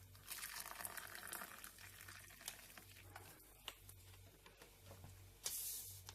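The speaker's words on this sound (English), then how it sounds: "I've given the kettle a boil and we'll add water" Hot water from a just-boiled kettle pours onto a coffee bag in a cup, a quiet trickling splash with faint sputters and brief louder spurts, heard close with no talking.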